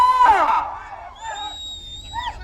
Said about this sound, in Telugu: కేకలయ్యారా చప్పట్లు కొట్టారా మరి రైతు సోదరులారా